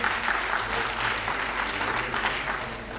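A college audience clapping for teachers at a Basant Panchami celebration, dense, steady applause from a crowd that fills the whole stretch without a break.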